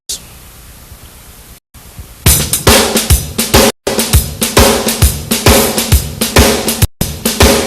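After a few seconds of hiss, a drum kit plays a bouncy triplet-based shuffle groove, loud, with steady swung hits repeating up close.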